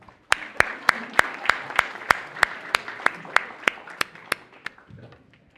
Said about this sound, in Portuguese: Vamos dar uma salva de palmas para dar tempo de pensar?